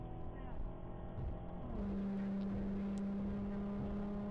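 Infiniti Q50 engine and exhaust fitted with only a muffler and resonator, a rough low drone that settles into a steady tonal hum, heard from inside or near the car.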